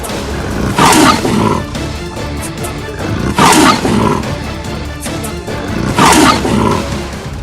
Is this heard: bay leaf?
no